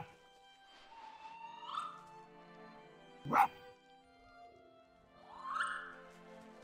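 A small dog-like creature in the Spirit of the North game whimpers and whines in a few rising, drawn-out cries with a sharp yip between them, soft and alone against quiet music.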